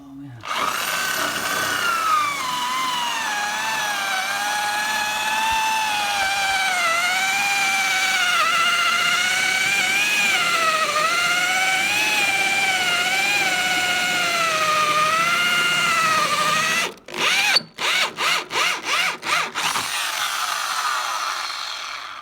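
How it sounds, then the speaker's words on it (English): A high-torque drill whines continuously as it bores into oak, its pitch wavering under load, then stutters in several quick bursts near the end. "that's going to be fun with this very high torque drill that I'm holding"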